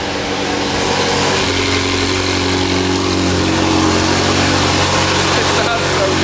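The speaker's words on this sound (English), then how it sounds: "let's go ahead and get a cold start on the McLaren 720 with our brand new Grail exhaust" A McLaren 720 fitted with a new Grail exhaust fires up cold, settling into a loud, steady, throaty idle with a deep layered rumble that holds for several seconds.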